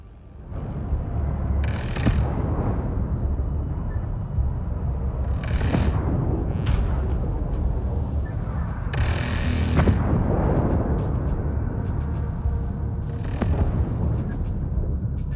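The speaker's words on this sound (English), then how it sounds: "Hull defense guns are active and engaging targets." Hull defense gun turrets fire at targets in the Homeworld 3 space strategy game, several heavy booming bursts with mechanical rumble over a dense, continuous low background.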